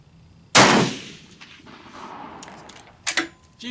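Steyr rifle firing GP11 ammunition of 1992 vintage at a range, one sharp loud close gunshot with a decaying echo, followed by fainter clicks and clatter of the action.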